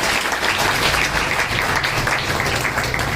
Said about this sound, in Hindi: चाहती हूँ उनके लिए एक बार जोरदार तालियां हो